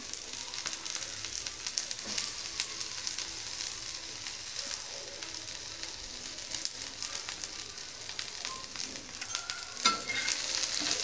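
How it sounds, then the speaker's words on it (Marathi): Onion frying in a pan on top of roasted dal for a double beans rassa bhaji, a steady, faint crackling sizzle with occasional stirring scrapes, continuous throughout with no talk. "आता ह्यामध्ये आपण कांदा टाकून घेऊया"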